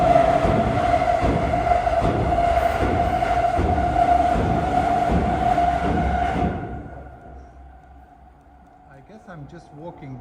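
A Shinkansen train rumbles past on overhead tracks above a walkway in Tokyo, loud and close with rhythmic clacking, then fades away after about seven seconds into quieter street ambience.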